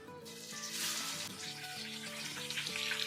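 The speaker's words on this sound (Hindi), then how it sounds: "हल्का सा फ्राई करेंगे प्याज को।" Chopped onions fry lightly in oil in a karahi, giving a soft, steady sizzle under gentle background music, faint overall.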